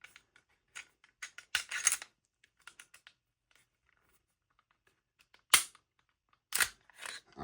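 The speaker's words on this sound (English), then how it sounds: "I'm gonna go ahead and take the slide off of the frame." Sharp metallic clicks and snaps of a pistol slide being worked off its frame, isolated close-up handling noises with quiet gaps between a few louder clacks.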